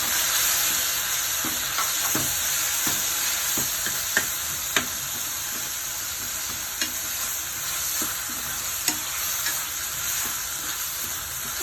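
Chopped tomatoes fry in hot oil under a steady, close sizzle, broken by regular stirring scrapes and a few sharp taps of the spoon against the pan.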